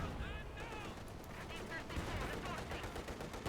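Battle sounds from Company of Heroes 2, a Second World War strategy game with MG34 machine guns, a ZiS anti-tank gun and a Panzer IV: steady gunfire and rattling bursts under continuous commentary.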